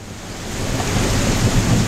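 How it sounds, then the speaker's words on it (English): Heavy rain pours outside a front door during a thunderstorm, a loud, dense wash of rumbling noise that swells slightly over a couple of seconds. "can I get like a view of how the rain is coming down from down here?"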